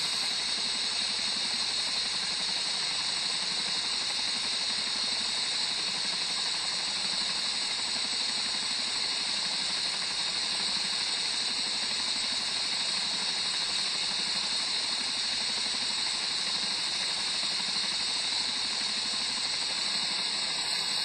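The engines of a Ka-50 helicopter run steadily after start-up, giving a constant, loud turbine whine and hiss with no change in level throughout.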